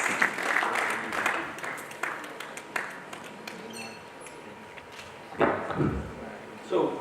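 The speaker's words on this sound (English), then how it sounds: "Can you give all of the panelists a round of applause, please?" Audience applause for panelists at an SPE 2025 conference, a short patter of claps that quickly thins to scattered claps, with a few thuds and bumps near the end.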